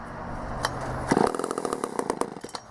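A vintage Poulan 306A chainsaw engine fires up after a low pull, then sputters and revs in uneven bursts up close, loud and alone.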